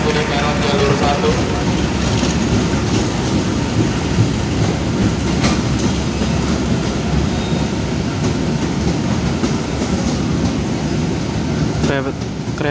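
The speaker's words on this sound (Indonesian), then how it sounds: "Kereta api Dharma Wangsa merapat di" The Dharmawangsa passenger train pulls into Jatinegara station, a loud continuous rumble of wheels and carriages with rhythmic clatter, station announcements and voices mixed in.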